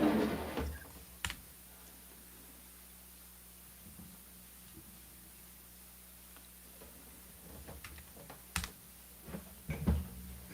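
Scattered clicky keystrokes on an old Tandy computer keyboard, sparse at first then a quick burst near the end, over a faint steady hum.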